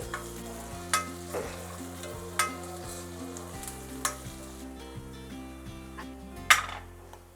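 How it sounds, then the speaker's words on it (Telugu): Curry leaves frying in hot oil, crackling and sizzling steadily with several sharp clanks of a utensil against the pan and a faint tonal hum underneath. "ఆయిల్ వేస్తున్నానండి వేపాక వేసానండి"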